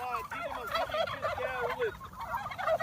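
Turkeys gobble repeatedly in a loud, overlapping chorus, several free-range farm birds close by calling in bubbling bursts throughout.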